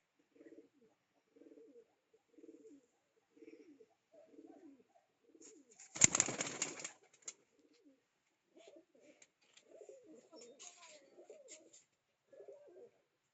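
Pigeons coo in soft, repeated low phrases from nearby, a series of short rhythmic calls with a brief burst of wing flapping or rustling midway, quiet overall and without speech.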